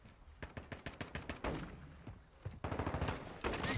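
A tossed decoy grenade in a video game spits out a rapid series of fake gunshots, sharp repeated cracks in bursts that grow denser and louder toward the end.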